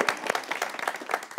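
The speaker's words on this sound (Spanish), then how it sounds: "¡Qué bien, el aplauso!" Applause from a studio audience at a Spanish-language call-in program, a brief burst of dense clapping with rising and falling bursts, moderately near.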